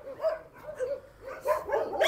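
A dog at an animal shelter gives a short series of barks and whimpering yips, close and fairly loud, in a 2-second burst with no talking.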